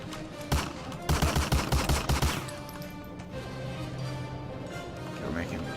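Shotgun fire in the World War II shooter game Medal of Honor Allied Assault: one loud shot, then a quick run of about eight sharp, evenly spaced blasts, followed by lower background game noise.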